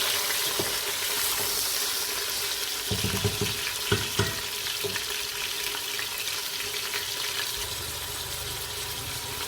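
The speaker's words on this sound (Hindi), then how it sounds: "गोश्त को भून लेते हैं" Meat pieces frying in a pot for haleem, a steady crackling sizzle with occasional stirring clacks and scrapes, close and continuous throughout.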